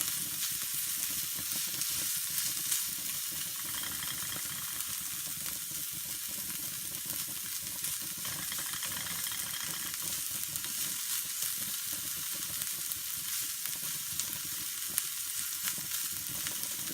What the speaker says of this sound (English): I'm just going to let that cook for a couple of minutes until it starts to brown up a little bit